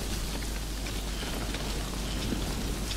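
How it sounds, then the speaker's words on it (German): Steady rain falls without pause in the video game Death Stranding, a dense, even hiss spread wide and holding constant throughout, with no voices over it. "Regnet aber auch ständig hier, ne?"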